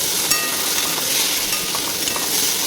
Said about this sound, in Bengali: ভালোভাবে এটাকে নাড়বো